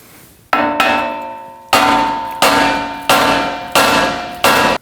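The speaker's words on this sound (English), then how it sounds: "Now we can strike the knuckle right here by the ball joint to release this." Hammer blows on a steering knuckle beside the ball joint during front CV axle replacement on a 2016-2022 Honda Pilot: six loud, ringing metallic strikes at a steady pace, each leaving a bell-like decay, with no talking.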